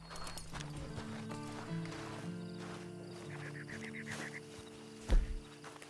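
Horse hooves clip-clop steadily at a walk over a low ambient soundtrack in Red Dead Redemption Online, with a brief loud thump near the end and a faint whinny.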